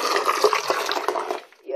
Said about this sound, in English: so I have to add water from time to time